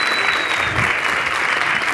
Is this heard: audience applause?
yes